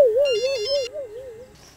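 A phone ringtone plays alone: a warbling electronic melody rising and falling in a steady repeating rhythm, loud and close, with bright chiming tones over the first half before it fades.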